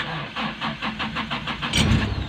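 A 1996 Toyota Kijang pickup engine cranks with a quick run of even starter pulses, then catches and fires into a louder, rougher idle nearby.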